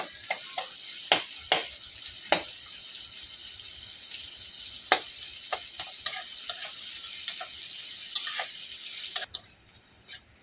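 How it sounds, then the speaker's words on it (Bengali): Two cut onions fry in oil for a Bengali rohu fish curry with potato and cauliflower. A quiet hiss is broken by sharp, scattered crackles and pops, with no talking. "পেঁয়াজটা একটু ভেজে নেব।"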